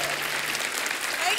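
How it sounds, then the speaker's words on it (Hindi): Studio audience applause greets a guest on a televised comedy talk show, a dense, steady wash of many hands clapping at once, loud and continuous throughout. "जोरदार तालियां"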